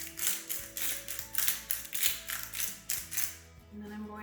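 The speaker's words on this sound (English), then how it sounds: "I'm going to use my pepper grinder" A hand-turned pepper grinder cracks pepper in a quick run of rhythmic, grinding ratchet clicks, close and fairly quiet, with no talking.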